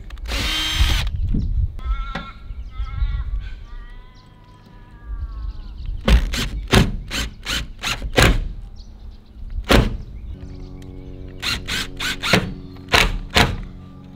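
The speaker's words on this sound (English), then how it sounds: "when you're screwing down, you wanna do like a crisscross pattern" A power drill drives screws to fasten a MaxxFan roof fan on a camper van, giving a sequence of short sharp whirring bursts in quick runs, interrupted by quieter tonal screeching and handling noise.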